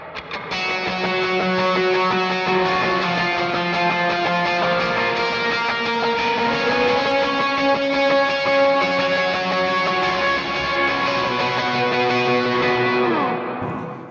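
Sustained electric guitar octave melody drenched in reverb and echoing delay, the lead guitar part from a worship song, playing steadily and loud throughout with no voices.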